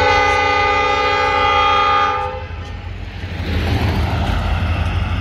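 A freight train passes with a loud, sustained horn blast that cuts off partway through, leaving the heavy rumble of rolling cars close by.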